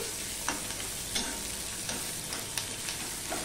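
Chopped onions deep-frying in a generous amount of oil for beresta, a steady dense sizzle with occasional sharper crackles and pops, close and continuous with no voices.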